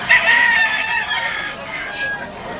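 A Kelso bloodline stag rooster crows close by, one drawn-out cock-a-doodle-doo with a fainter trailing call, amid farmyard background noise.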